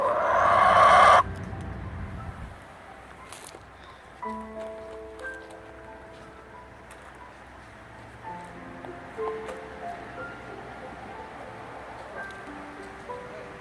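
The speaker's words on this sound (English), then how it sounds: "Talk with a couple of chickens." Chickens cluck softly in short, scattered calls nearby, over a quiet outdoor background after a brief loud noise at the start.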